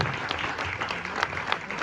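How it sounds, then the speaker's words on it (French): A burst of crowd applause in a brasserie, dense clapping that stays loud and steady for a couple of seconds. "je vous demande de faire un tonnerre d'applaudissements pour le prochain"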